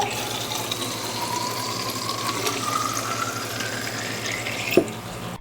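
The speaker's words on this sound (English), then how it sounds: "Then I make sure to hydrate and refill up my water bottle." Tap water runs into a water bottle in a steady, close stream, the filling tone rising in pitch as the bottle fills, followed by a short clunk near the end.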